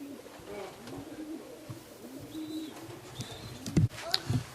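Racing pigeons coo low and repeatedly close by at the loft as they return from a race, with a few sharper flutters and knocks near the end.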